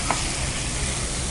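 Egg being stir-fried in a pepper masala in a hot pan, a continuous close sizzle with the brief scrape of a spatula near the start.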